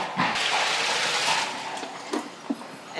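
About 15 litres of water pours from a bucket into a barrel of horse bedding pellets, a rushing splashy gush nearby that fades into a few small sloshes and drips, with no talking.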